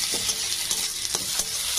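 Lightly fried onion with ginger-garlic paste sizzles in a pan, a steady hiss broken by several soft scrapes as a spoon stirs it, with no voice.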